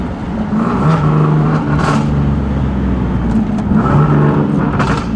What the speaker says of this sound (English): I love these downshifts